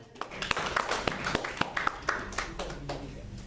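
A church congregation claps for Jesus during a French-language service. Scattered, uneven claps ring out in a reverberant room, with voices faintly underneath.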